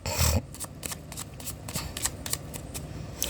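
Tarot cards are shuffled close up in quick riffling bursts, the papery flutter repeating several times over a few seconds with no talk.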